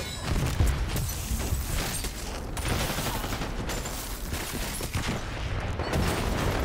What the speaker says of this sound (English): Dying to a random explosion is crazy.